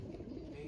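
Racing pigeon cooing on arrival at the loft after a 246 km race, a low, steady coo close by over a continuous murmur, heard briefly.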